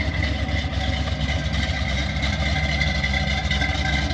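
A 1974 Chevrolet Corvette's 350 V8 engine idles steadily up close, a low throbbing rumble holding constant throughout with no voices.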